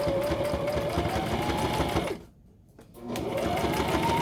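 Sewing machine stitching through a stiff interfaced tote bag, a loud close continuous whir that cuts out briefly for about a second before running again.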